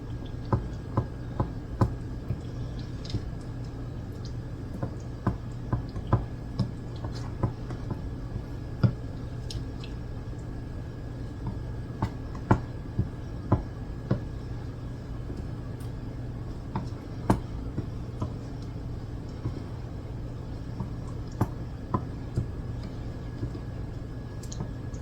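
A spoon stirring a pumpkin cobbler mixture in a bowl, producing scattered soft ticks and clicks at an irregular, unhurried pace over a steady low kitchen hum, close and fairly quiet throughout.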